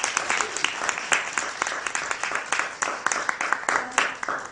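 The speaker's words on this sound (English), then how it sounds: "give a round of applause for us" Applause at a doula conference welcome session, a crowd clapping with distinct individual claps standing out in a steady, moderately faint round.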